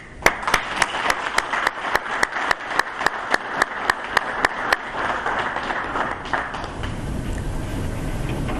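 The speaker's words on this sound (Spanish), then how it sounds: "nos acordaremos siempre de ustedes con este merecido aplauso" In the Chamber of Deputies, a steady run of sharp, rhythmic claps rings out over a broad wash of applause, then the beat stops and a softer noisy murmur carries on.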